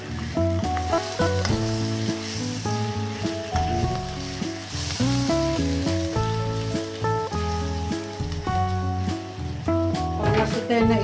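Beef sizzles as it is sautéed in a pan for a stir-fry with noodles, a continuous loud crackle beneath prominent melodic background music.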